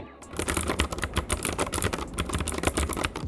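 Rapid, crisp clicky keystrokes from a Fantech Atom Pro63 MK912 mechanical keyboard with blue switches, a dense continuous stream of sharp taps close up with no talking.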